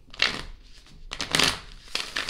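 Tarot cards being shuffled by hand in a few close, papery riffling bursts separated by short pauses, with no talking.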